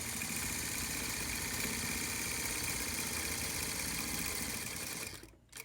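A sewing machine stitches a besom pocket onto a hand-made jacket with a steady, continuous mechanical whir that runs unbroken before cutting off in the final moment.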